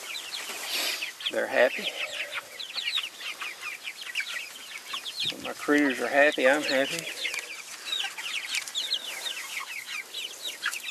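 A flock of backyard chickens clucks and chatters steadily on clean grass beside a movable chicken hut, busy overlapping calls close by while someone speaks over them.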